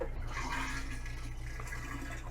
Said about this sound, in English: Then when you want to flush, you just push the pedal all the way down.